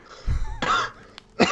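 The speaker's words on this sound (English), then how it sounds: "Breaks out into a coughing fit." A few harsh, raspy coughs and throat-clearing sounds come in quick succession, close by and fairly loud.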